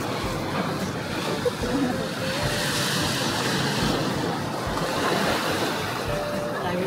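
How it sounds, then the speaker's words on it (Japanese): Steady roar of ocean surf breaking continuously on a Hawaii beach, loud and close, with wind noise over the microphone and brief faint voices. "音がいいですね。 音ね、波の。"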